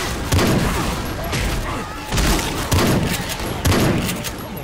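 Gunfire in the Left 4 Dead 2 zombie game, heavy bursts repeating every second or so, loud and punchy and layered over a busy rumbling backdrop, with no voices present.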